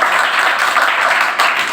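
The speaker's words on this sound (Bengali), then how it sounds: "জোরে একটা হাততালি চাই" Audience applause at a talk, a dense broadband wash of many hands clapping together, loud and steady throughout without a break.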